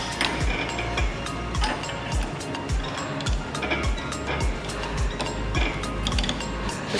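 Ratchet pipe threader cutting threads on galvanized pipe, repeated rhythmic ratcheting clicks and thumps roughly every half second over a continuous grinding background, heard close up.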